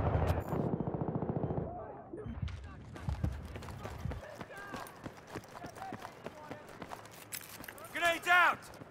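Gunfire in Battlefield 3 multiplayer, bursts of shots from a shotgun-focused match ringing out sharply over busy game noise, with a louder burst near the end and talk in the background.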